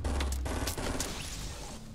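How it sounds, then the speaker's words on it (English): Bursts of rapid gunfire in Fortnite Battle Royale crackle over a dense, noisy background, several sharp volleys in quick succession, loud and close. "I also hear gunfire here."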